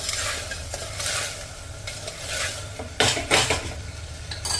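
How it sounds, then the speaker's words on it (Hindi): Curry leaves and green chillies sauté over high flame in a pan for a fasting-style potato dish, with a continuous loud sizzle and scraping spoon-against-pan stirring strokes, close up and with no talking. "अब इसे हाई फ्लेम पर 2-3 मिनट के लिए भूनेंगे"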